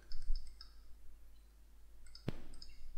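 Computer mouse clicks during a USB flash drive build: a few sharp, faint clicks spaced apart, one sitting in the middle, in a quiet room with no talking.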